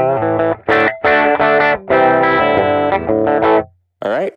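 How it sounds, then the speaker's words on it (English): An electric guitar runs through a Warm Audio Centavo Prize Drive overdrive placed in a Line 6 Helix effects loop, with bursts of distorted chords and notes broken by short pauses and a final brief phrase. "Okay, now let's put the prize drive pre warm audio Centavo and all my other stuff in that effects loop."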